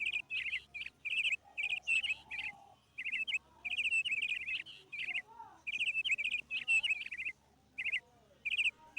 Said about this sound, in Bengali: ফিঙে পাখি এসে ওই ওই পেঁপেটাতেই খাচ্ছে।